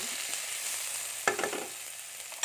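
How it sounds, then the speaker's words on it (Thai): Northern Thai curry paste with pounded chilies stir-frying in a pan, a soft sizzle broken by a couple of sharper stirring scrapes, close but fairly quiet. "ขั้นตอนนี้จะเป็นการผัดเครื่องแกงนะคะ"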